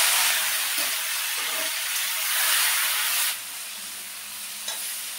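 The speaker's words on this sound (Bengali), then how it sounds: "ফুলকপি আলু একসঙ্গে দিয়ে দেব" Cauliflower and potato pieces frying together in a pan with cumin-tempered oil, a steady close broadband sizzle and hiss with occasional stirring scrapes, continuing alone without talk.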